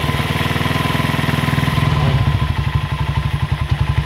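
A motorcycle engine idles with a steady clattering putter, then is revved, the beat growing louder and pulsing in rapid surges.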